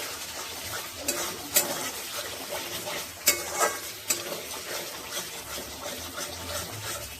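Cauliflower and egg curry masala being sautéed in a pan, with steady sizzling under scraping stirs and a few sharp spatula clacks against the metal.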